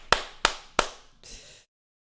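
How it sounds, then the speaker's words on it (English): Three sharp slapping claps in quick succession followed by a softer, longer smack, close and dry, from a podcast host's call for a round of applause. "Give it a round of applause."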